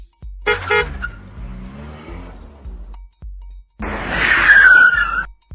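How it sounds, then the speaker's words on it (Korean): A cartoon bus pulls away from the stop in the Say Hi Kids bus stop flash game, starting with a short engine rumble and ending in a loud, sustained horn honk. "3 0 0번 버스 출발합니다."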